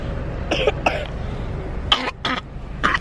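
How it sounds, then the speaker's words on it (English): Several small, close coughs come in short bursts, a pair, then another pair, then a single cough, from a young child. "Baby is still coughing."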